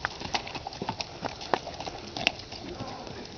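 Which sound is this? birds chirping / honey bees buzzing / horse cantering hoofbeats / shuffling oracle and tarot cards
horse cantering hoofbeats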